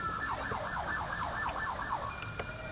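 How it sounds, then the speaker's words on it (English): A wailing siren from a funeral procession escort carrying a fallen soldier's body cycles rapidly up and down in repeated sweeps, heard at moderate distance over road noise. "The sound of sirens from the processional carrying the body of Lance Corporal Nicholas Durrell"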